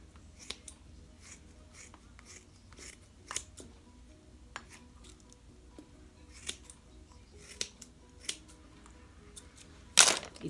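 Scissors snip through synthetic crochet hair in quick, sparse crisp clicks, close and quiet, ending with a louder rustling burst.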